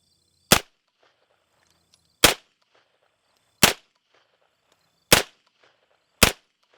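A Zenith ZF5 MP5 firing standard 115 grain ball rounds: five sharp, loud single shots spaced about a second and a half apart, each cracking out alone against near silence.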